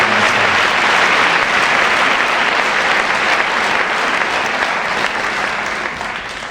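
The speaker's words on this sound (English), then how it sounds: "may we give a one round of applause again to our Chancellor" A large audience at a university chancellor's inauguration claps steadily in sustained applause, loud and full, tapering slightly at the end with no talk.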